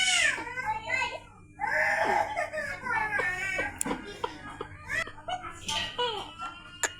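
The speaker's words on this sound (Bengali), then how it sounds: "তো এই বাচ্চাটা শুধু শুধুই কান্না করে" A young child cries and whines on and off for several seconds, close and loud, with short sobbing breaths between outbursts.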